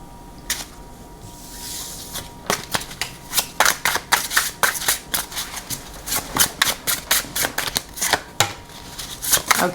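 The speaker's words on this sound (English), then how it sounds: "Let us pull some tarot cards as well." Tarot cards being shuffled by hand, a run of crisp, rapid riffling flutters and snaps close up, with short bursts repeating in an uneven rhythm.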